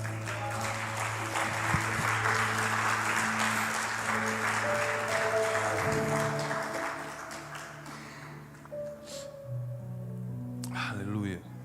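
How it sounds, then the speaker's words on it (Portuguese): A congregation applauds during a church service. Broad, sustained clapping over held keyboard tones fades after several seconds, leaving the music with a few scattered sounds. "Vamos aplaudir o Senhor."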